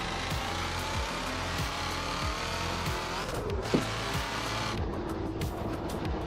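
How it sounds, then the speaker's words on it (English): A Cadillac being driven in a racing game gives a steady engine drone that runs throughout. Regular low, thumping pulses recur underneath it, and a short sharp transient comes near the middle. "I'm driving the Cadillac right now."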